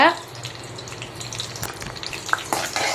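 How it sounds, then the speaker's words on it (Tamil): Mustard seeds and cumin sputter and crackle in hot oil for a brinjal curry, with irregular pops and sizzling close by and a soft voice briefly audible. "கடுகு ஜீரகம் நல்லா பொரியட்டும்"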